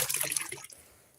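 Water pours briefly from a pitcher at a duck and chicken yard, a close, bright splashing trickle that fades out within a second.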